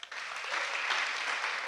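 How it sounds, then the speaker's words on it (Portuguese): Broadband clapping from an audience welcoming a psychologist guest on a Brazilian podcast, a steady round of applause sustained at even loudness throughout, with no voices over it. "Salve de palmas!"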